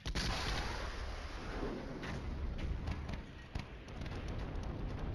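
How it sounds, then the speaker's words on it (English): Artillery and mortar fire rumbles through a Flashpoint Campaigns Red Storm wargame, a dense, continuous barrage of booming thuds with a few sharper impacts standing out, fairly loud and with no speech over it. "And his artillery, that's his mortars,"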